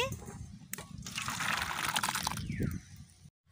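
Boiled lentils (dal) are stirred and mashed in a pot, giving soft, wet sloshing and squelching close by for a few seconds before the sound cuts off.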